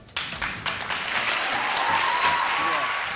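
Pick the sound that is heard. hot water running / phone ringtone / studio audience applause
studio audience applause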